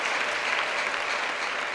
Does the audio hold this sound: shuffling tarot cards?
no